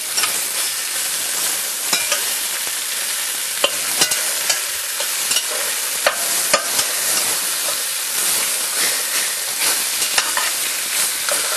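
Onions fry in a cocotte heating up for osso buco, a loud, dense, continuous crackle and sizzle with scattered sharp pops, close and alone.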